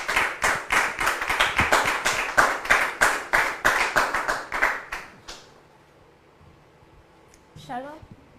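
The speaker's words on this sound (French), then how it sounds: "Sous vos applaudissements, s'il vous plaît" A small audience claps in quick, uneven bursts for about five seconds, then the clapping stops abruptly, leaving near-silence before a brief voice is heard.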